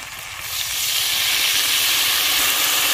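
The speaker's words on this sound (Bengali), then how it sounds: "হালকা একটু জল দেব।" Splash of water added to a frying paste of ginger, garlic, cumin, salt, turmeric and coriander powder for an egg and brinjal curry, bursting into a loud, close, steady steamy hiss.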